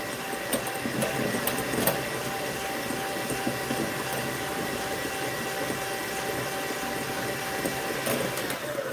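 Electric mixer whipping egg whites and lemon juice at high speed, a steady loud motor whir with a constant hum that continues without pause.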